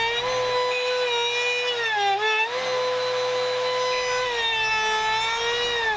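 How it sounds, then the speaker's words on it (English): Router table fitted with a rabbeting bit cutting a small groove along the back edge of a wooden finger-joint picture frame: a loud, steady high-pitched motor whine with slight pitch dips as the wood feeds through, no talking. "Then I'll drop a rabbeting bit in my router table. I'll route a small groove around the back edge."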